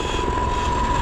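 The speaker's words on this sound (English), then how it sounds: "there goes the helicopter" A helicopter passes overhead above city streets in the aftermath of protests in Los Angeles, a steady droning engine hum with a constant tonal whine, moderately loud and unbroken, with no talking.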